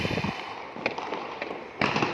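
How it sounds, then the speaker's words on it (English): Fireworks go off on a street beside a national highway on New Year's night, with sharp bursts and crackles, a loud cluster at the start and another near the end, amid mid-distance pops. "there is a bit of firework on the front street"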